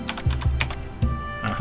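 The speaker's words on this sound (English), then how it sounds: "You can probably hear me clacking away on a mechanical keyboard here" Mechanical keyboard keys clack in quick irregular bursts while playing a typing game, close and crisp with a few short pauses.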